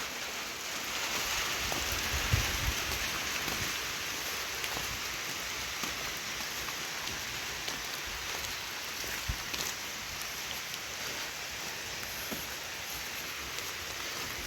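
Steady rain pattering on surfaces over rice paddies, a continuous hissing wash with occasional louder drops, no voices.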